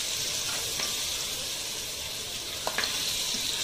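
Muthe dumplings laid onto a hot turmeric tempering in a pan give a steady, close sizzle throughout, with a few brief pops and clicks near the end.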